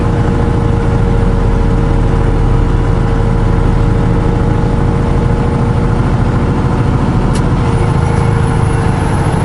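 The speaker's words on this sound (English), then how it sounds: "Feel that engine brake. Or that Jake brake." A steady, loud engine drone is heard from inside a truck under engine braking, with a continuous low rumble throughout and a brief whistling tone near the end.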